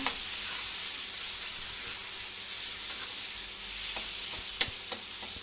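Tomatoes frying in a pan for a fish and masoor dal curry, a bright, steady sizzle close up with a few sharp spoon scrapes and knocks as they are stirred, no talking.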